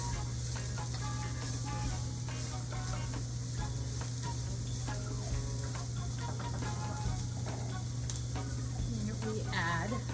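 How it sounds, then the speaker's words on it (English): Garlic and onions sizzle steadily in a hot pan while a utensil stirs them, scraping and clicking against the pan in an irregular rhythm, close and loud with no voices. "So I add the garlic, the onions. I'm gonna give that a quick stir."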